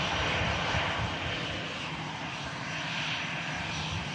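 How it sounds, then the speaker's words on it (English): An EasyJet Airbus A320 arrives at Manchester Airport, its engines a steady, broad jet roar heard from a distance, holding level throughout with no voices. "EasyJet A320 coming in."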